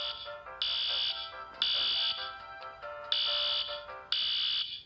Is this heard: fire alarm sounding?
yes